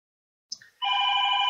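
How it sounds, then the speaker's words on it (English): A phone starts ringing after a couple of short electronic blips, settling into a steady, bright multi-tone ring that is clear and alone. "The phone is ringing."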